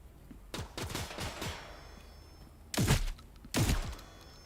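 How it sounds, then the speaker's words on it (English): Shotgun called the Renegade fired in the video game Transience: a few loud, sharp blasts, with two heavy booms standing out clearly near the end and quieter shots earlier, no talking. "It is a shotgun."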